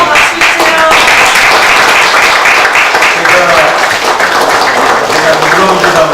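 Loud, dense applause from a crowd fills the room, with voices talking and calling out over the clapping throughout.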